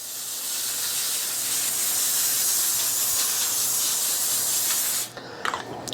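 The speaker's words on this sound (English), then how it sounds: "We're going to spray that baking rack really well." Cooking spray hisses steadily onto a baking rack set over a foil-lined pan for about five seconds, then stops, followed by a few faint clicks and rustles.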